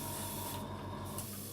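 A VMS varnish aerosol can sputtering rather than spraying cleanly, a close continuous hiss with a rough, uneven texture that briefly drops away and then resumes.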